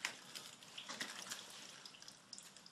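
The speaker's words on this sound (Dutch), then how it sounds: "Nog eventjes op de zeswegkraan drukken, zodat het water aan alle kanten weggaat." Water drains out of a D-Max pool sand filter through its six-way valve as the pool is winterized, a steady soft hissing gush with faint splashes, close and fairly quiet.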